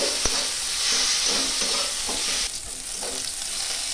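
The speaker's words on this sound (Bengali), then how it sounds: "ভালো করে আমি পেঁয়াজ আদা এগুলো ভালো করে একটু ভেজে নেব" Chopped onion, ginger and green chillies sizzle in hot oil in a pan while being stirred for paneer poha, a steady close crackle with soft scraping strokes and no talk.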